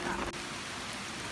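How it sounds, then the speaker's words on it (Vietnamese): Heavy rain falls in a forest, a dense, steady hiss of drops on leaves and ground, loud and continuous with no talk. "Chỉ mưa trong vòng hơn 30 phút thôi mà từ cái nguồn nước này các bạn có thể thấy là nó đã dâng lên rất là cao"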